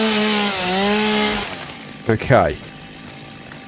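Chainsaw in Satisfactory running with a steady droning whine that dips in pitch as it bites into a tree, then cuts out, followed by a short spoken word.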